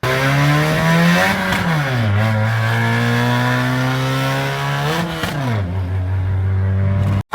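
A Stage 2 modified Honda Amaze engine revving hard, its loud droning tone climbing and dropping in repeated sweeps as the throttle is blipped, close and alone, cutting off abruptly at the end.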